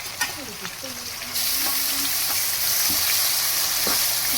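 A paste of onion, garlic, cumin, poppy seeds and tomato sizzles loudly in a pan for a Telugu fish curry, with a steady hiss that builds as it is stirred and a few soft voice sounds.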